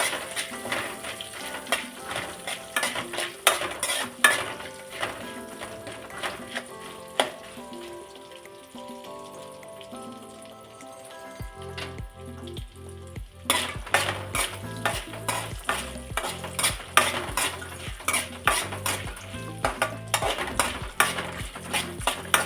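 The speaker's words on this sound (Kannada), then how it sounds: "ಕಾಯಿ ಪೀಸು ಹಾಕಿ, ಆದರೆ ಚೆನ್ನಾಗಿ ಹುರ್ಕೋಬೇಕು ನೀವು ಅಷ್ಟೇ. ಈ ಥರ ಎಣ್ಣೆಯಲ್ಲಿ ಹುರಿಬೇಕು" Coconut pieces frying in hot oil in a pan, with a steady sizzle and frequent sharp scraping clicks of a metal spoon stirring and knocking against the pan, close and busy throughout.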